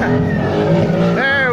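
A supercar engine accelerating under throttle on a road rally from Mykonos to Ibiza, a loud close revving whine that climbs in pitch near the end, with a voice speaking over it.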